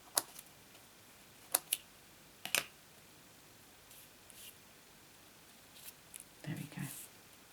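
Scissors snipping stems off paper flowers for a handmade card, a few sharp quiet clicks spaced apart at close range in a hushed room, with light handling noises between.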